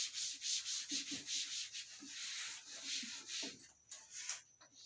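Rubbing out writing on a classroom board during a maths lesson: a run of brisk, rhythmic scrubbing strokes, close and fairly soft, heard alone without talk.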